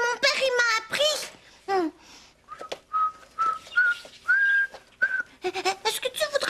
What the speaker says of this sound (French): Est-ce que tu voudrais que je t'apprenne à siffler?